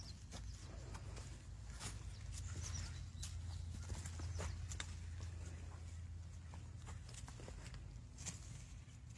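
Hooves clip-clop at an animal sanctuary, a donkey stepping in a loose, uneven rhythm of sharp knocks over a low rumble, close by and without talk.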